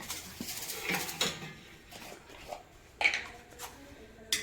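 Flour mixed with turmeric and ajwain by hand in a metal plate gives soft, quiet scraping and rustling, with a few faint clinks against the plate now and then.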